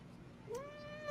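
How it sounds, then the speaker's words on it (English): A house cat lets out a single short, rising meow, faint and somewhat distant against a quiet room background. "That was my cat."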